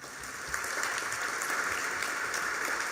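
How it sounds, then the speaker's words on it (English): Audience applause at an institute's annual gala dinner, a steady, dense wash of clapping that stays fairly even throughout, heard from within the room with no voices over it. "please applaud them as well"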